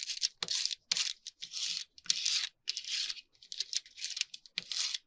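A Wilton paper label is peeled and torn off a wrapper in a series of short crinkly ripping bursts with brief pauses between, close and fairly quiet.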